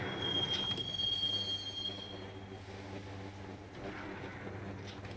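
A train ride in the Max Payne video game, a steady rumbling rail roll with a high metallic wheel squeal early on that fades, continuing as a close, even clatter with no talk.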